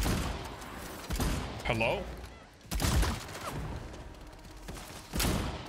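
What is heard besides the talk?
shotgun firing in Bloodhunt video game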